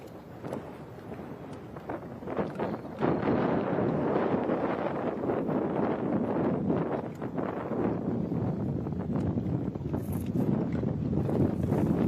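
Fishing boats on a creek off Lewis Smith Lake in Alabama during a bass tournament, a broad steady outboard engine drone with wind and water rush, rising louder partway through and staying constant, no talk.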